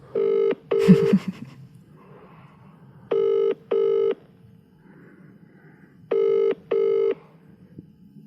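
A telephone is dialled and then rings out in paired electronic tones that repeat three times, loud and close, with a brief clatter of handling noise near the start.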